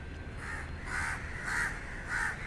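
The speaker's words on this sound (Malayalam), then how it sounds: "കാക്കയ്ക്ക് ഒന്നും ചെയ്യാനില്ല. വെറുതെ അവിടെ പോയിട്ട് ഇങ്ങനെ കരയാന്നല്ലാതെ." A crow caws over and over after a dog took its chick, giving four loud, evenly spaced harsh calls close by against faint background noise.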